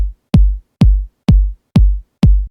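A lo-fi, subby kick drum thumps five times in an even four-on-the-floor pattern, each hit deep, loud and decaying quickly into silence, played alone.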